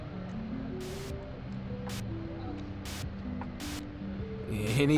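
A spray tool in the Tattoo Removal Simulator video game gives four short hissing bursts at a steady pace over a quiet humming game backdrop, with a louder rise at the very end.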